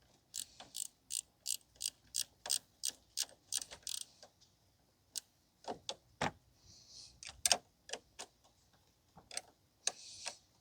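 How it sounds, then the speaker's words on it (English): A ratchet clicks in quick, even bursts while tightening the battery terminals on a 2016 Nissan Versa Note 1.6, close and crisp, with short pauses and a few sharper clanks between runs. "we're going to tighten up the terminals"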